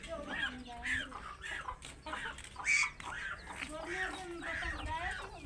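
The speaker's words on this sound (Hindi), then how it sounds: "बीमार बत्तख को अब्दुल्ला ने उठा के दड़बे में बंद कर दिया है" A sick duck kept in a coop makes faint, nasal quacking calls in a quick uneven series, with other fowl and chickens clucking around it and voices talking nearby.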